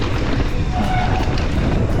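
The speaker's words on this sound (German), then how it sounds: "Oh, der Wind." Wind roars into the microphone on a wet, rocky mountain bike trail near Golspie in the Scottish Highlands, a constant loud buffeting rush with low gusty rumble and no voices.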